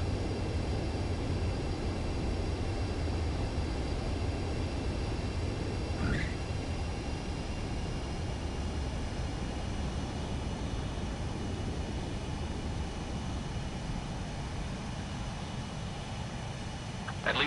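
A jet aircraft landing in Ace Combat 7, a steady loud roar of engine and airflow that holds for the whole stretch with a faint rising whine partway through, no talking.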